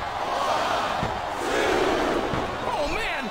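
A wrestling arena crowd in WWE Smackdown vs Raw 2007 roars and cheers as a loud, continuous swell, with commentator talk over it.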